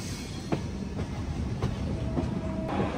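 A Humsafar Express rolls on its outer approach into Jolarpettai Junction, wheels clacking over rail joints in a steady loud rumble with a few sharp knocks, heard from on board.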